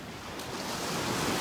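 Churned-up ocean surf washing onto a beach in North Naples, Florida on a windy morning, a steady broadband wash that swells slightly louder toward the end, with no voices.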